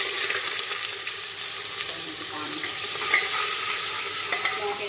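Spices for a tempering hiss and crackle in hot oil before rice goes in, a dense, even sizzle heard up close without any talking.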